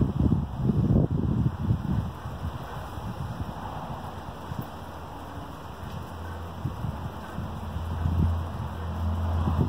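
Steady wind rushes past outdoors, a broad continuous noise with gusty low rumbles buffeting the microphone, swelling slightly toward the end.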